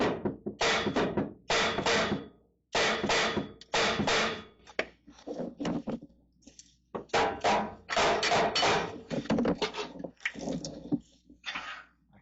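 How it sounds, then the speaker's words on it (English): Repeated hammer blows ring out beneath a Nissan Frontier during transmission removal, coming in loud bursts of several quick strikes separated by short pauses, close by with no talking. "I can't get enough swing on this hammer to get anything."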